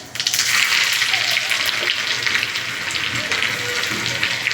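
Garlic added to hot oil with bloomed cumin and crackled mustard seeds for a dal tadka tempering, giving a loud, steady, close sizzle that continues unbroken for several seconds.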